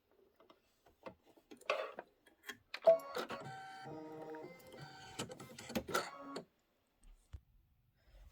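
A Kimberbell embroidery machine stitching quilting in buttermilk thread: quick mechanical ticking and whirring in bursts, with short pauses and scattered clicks, close and moderately loud.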